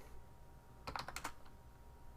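A quick burst of typing on a computer keyboard at a command line, several rapid key clicks bunched together near the middle, quiet and close over a faint background hiss.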